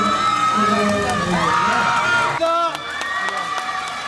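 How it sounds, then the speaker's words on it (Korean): Students at a high school festival cheer and shout after a dance performance, young voices whooping and clapping close by, with a sudden drop to lighter, scattered cheering and claps partway through. "박수 한번 주시기 바랍니다."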